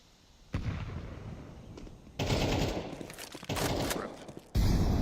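Explosive blasts from grenades and flashbangs in a shooter video game, arriving as several loud, dense bursts in sequence, each onset sharp and jumping up in volume, with a sustained rumble carrying between them.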